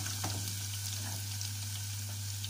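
Garlic sizzles steadily in hot cooking oil for sautéed string beans, a continuous close frying hiss with a low hum underneath and no voices.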